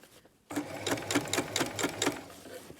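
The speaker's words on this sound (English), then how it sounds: "I'm going to sew down inside of that overlocking stitch" A sewing machine stitches down inside an overlocking stitch at the base of a waistband. It starts abruptly after a quiet moment and runs with a fast, even mechanical chatter, close and clear.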